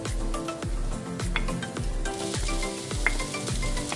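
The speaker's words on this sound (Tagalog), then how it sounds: "Igisa lamang ito hanggang mag-golden brown ang ating bawang. Isunod ang sibuyas." Onion and garlic sauté in a hot pan, giving a steady close sizzle with a spatula scraping and clinking against the pan at a regular rhythm and no talk.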